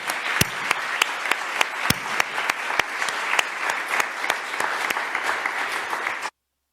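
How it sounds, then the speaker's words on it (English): An audience claps steadily in a hall as congressmen are welcomed to a university school event, with sustained applause and a few sharp nearby claps, ending abruptly. "please join me in thanking the congressmen for their public service and in welcoming"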